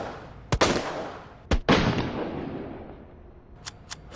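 An SLS-60 pistol loaded with high-powered rounds fires in Resident Evil 2 Remake, two loud, booming shots about a second apart, each with a long decaying echo, followed by a few faint clicks.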